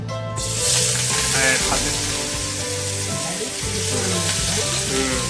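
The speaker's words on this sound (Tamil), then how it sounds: "நம்ம எண்ணெயில் போட்டு எடுத்துக்கலாம்." Bitter gourd pieces sizzle and crackle steadily in hot oil throughout, a dense frying hiss with a low background hum and some faint voices or music underneath.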